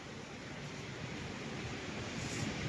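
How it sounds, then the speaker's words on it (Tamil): Heavy rain pouring down outdoors in Delhi, a dense, even roar of broadband noise that stays steady and fairly close throughout, with no voices. "செம்ம மழை."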